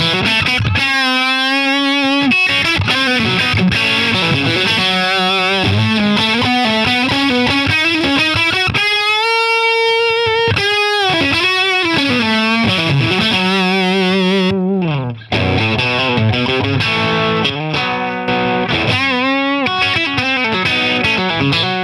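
Electric guitar played through a Mostro fuzz pedal into an Orange amp, heavily distorted with thick sustained buzzing notes and sliding bends, loud and continuous with one brief break.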